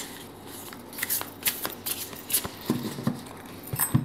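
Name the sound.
shuffling oracle cards for a ten-card reading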